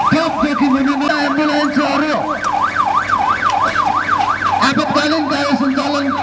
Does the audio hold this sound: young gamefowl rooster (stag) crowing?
no